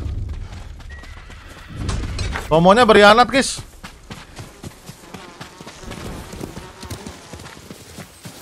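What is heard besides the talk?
horse in video game Ghost of Tsushima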